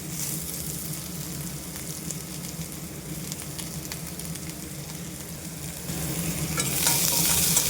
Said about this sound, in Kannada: ಸಾಸಿವೆ ಹಾಕ್ತಾಯಿದ್ದೀನಿ ಸಾಸಿವೆ ಹಾಕ್ಬಿಟ್ಟು ಈರುಳ್ಳಿ ಕರಿಬೇಸೊಪ್ಪು ಹಸಿಮೆಣಸು ಮೂರು ಹಾಕ್ಕೊತೀನಿ